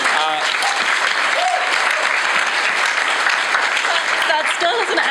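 Audience applause for a new RPG writer at a late-night live Q&A show, loud, dense clapping from a crowd that runs steadily throughout, with some voices mixed in.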